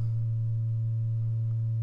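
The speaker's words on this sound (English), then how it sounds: "even though it's a good sine wave, it's a bit warmer than other oscillators I know" A steady, pure sine tone from an Ona analog multifunction oscillator module holds without change, loud and alone, with faint upper harmonics.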